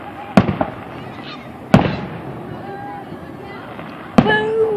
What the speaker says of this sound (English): There must be someone here who doesn't like firework explosion sounds.